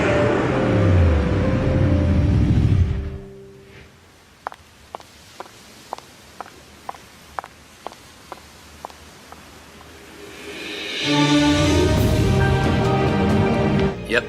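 A 500-horsepower rear-wheel-drive Porsche Panamera surges away in a loud burst of rising engine roar, then a quiet gap with a row of sharp, evenly spaced ticks, before a second climbing roar returns.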